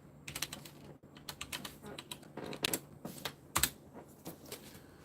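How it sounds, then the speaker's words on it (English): Someone types on a computer keyboard in quick, uneven bursts of soft clicking keystrokes with brief pauses, close and fairly quiet, with no talking. "I type wrong on purpose just so you can't actually make out what things I'm typing."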